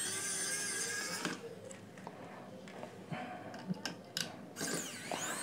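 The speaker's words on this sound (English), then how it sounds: "Two screws to remove this base port tube." Screws being backed out of the bass port tube on a JBL Micro wireless Bluetooth speaker, a short run of small ratcheting, clicking tool sounds close up, with a few sharper taps and scrapes near the end.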